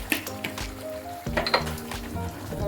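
A pot of lentil fritter curry with potato is stirred after garam masala goes in, a spoon clinking and scraping against the metal over a low simmering sizzle, close and steady with no talking.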